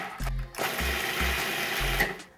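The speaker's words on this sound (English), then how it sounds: "I'm gonna start by putting some of these walnuts into my food processor." A food processor grinds walnuts into small pieces in a loud, close whirring motor roar, pulsing in short bursts with brief pauses between pulses.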